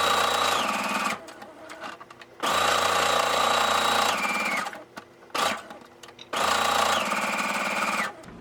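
Sewing machine stitching around three edges of a fabric tag, running in three loud steady bursts with short pauses between them as the fabric is turned.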